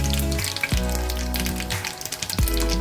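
Garlic sizzles and crackles in hot oil with cumin and mustard seeds for beetroot pickle, a steady close-up frying hiss interrupted by a couple of sharp spattering pops.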